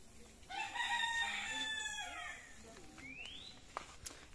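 A hen with her chicks out in the countryside, giving loud agitated squawks and clucks up close, followed by thin high peeps and a few sharp calls as the noise settles.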